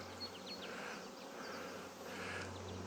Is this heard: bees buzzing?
yes